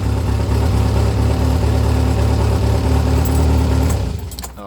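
A 1300 engine in an Alpine A110 under restoration idles loud and close at about 1250 rpm, a steady throb before it is switched off and dies away at the end.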